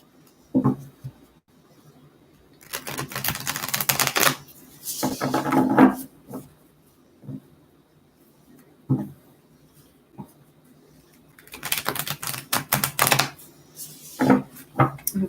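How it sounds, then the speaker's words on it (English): Repeated bursts of cards being riffled and shuffled, crisp fluttering rattles in several separate runs with quiet pauses between, close to the microphone. "just a couple more shuffles here"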